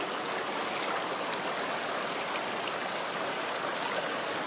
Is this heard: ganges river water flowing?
yes